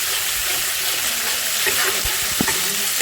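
Spices and a green chilli and raw mango paste frying in a pan, a loud constant sizzle and hiss close up with a few soft stirring knocks, no talking.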